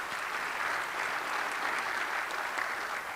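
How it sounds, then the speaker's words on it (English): An audience claps steadily for about three seconds, a dense even wash of applause heard from within the room at moderate level, with no voices over it. "One more round of applause."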